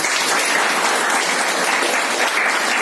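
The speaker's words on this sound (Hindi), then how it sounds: "तालियां होनी चाहिए।" A steady, dense round of audience applause at a distributor training event, continuous clapping at moderate loudness with no voices over it.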